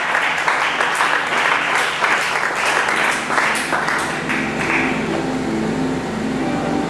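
A church congregation applauds during a Friday worship service, a steady wash of clapping that rises and swells for about five seconds before thinning out, with faint voices mixed underneath.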